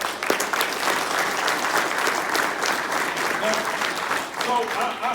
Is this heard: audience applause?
yes